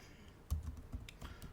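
Keys clatter on a computer keyboard in a quick, uneven burst of close, quiet typing with no voice over it.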